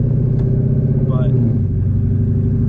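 Twin-turbo Ford Mustang with modified exhaust idling and lightly revving nearby, a loud steady low rumble with a brief rising whistle; someone talks over it.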